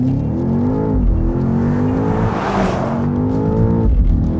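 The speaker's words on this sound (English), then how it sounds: "On that second shift, it really gives you a whump of bass." A BMW X6M Competition or Audi RSQ8 engine revs hard at full throttle and drops pitch at a gear upshift with a deep bass exhaust thump, then climbs again, loud and close.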